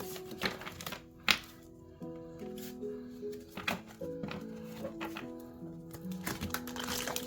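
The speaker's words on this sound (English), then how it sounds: "I'm just gonna cut the deck." A tarot card deck is cut and shuffled with soft, irregular card taps and riffling thunks, close but quiet, over a faint sustained musical background.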